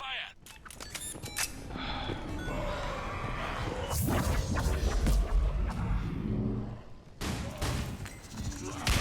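Heavy gunfire in the video game Mass Effect 3: dense, continuous bursts of shots and impacts fill the whole stretch loudly, with a brief lull near the end before firing resumes, under a busy battle mix.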